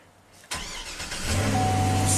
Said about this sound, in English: All right, now we should be able to start the truck.